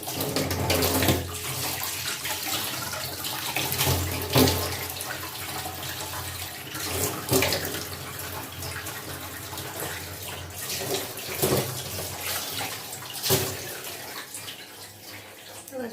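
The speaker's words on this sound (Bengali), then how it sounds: "ফেসটা ধুয়ে নিলাম।" A tap runs steadily into a sink as someone washes their face, with a continuous close rush of water and intermittent splashes through the whole stretch.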